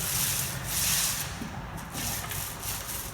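Epoxy floor coating being worked back and forth across an indoor floor with a roller, a continuous close rubbing swish that rises and falls in strokes.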